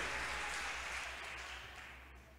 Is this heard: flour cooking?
no